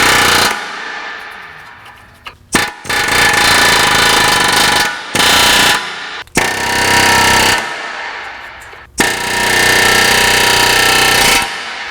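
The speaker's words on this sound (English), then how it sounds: "And I'm going to air hammer these things out." Air hammer driving out suspension bolts on a 2004 Acura TL, loud rapid pneumatic hammering in several bursts separated by short pauses.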